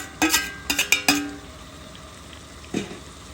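Fried chicken pieces dropped into a pan of cooked-down spice masala, a quick cluster of clinks and scrapes followed by a soft sizzle and one more clank, heard close with no voices.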